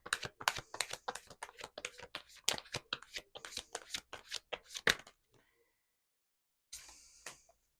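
Tarot cards being shuffled, a rapid run of crisp riffling slaps for about five seconds, then a pause and a brief softer rustle as a card is drawn, close and clear.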